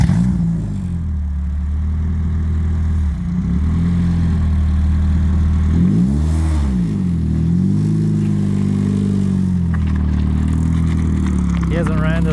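A midget sprint car engine with an upgraded computer and different intake runs close by, rising and falling through several revs over a steady idle, while someone talks over it.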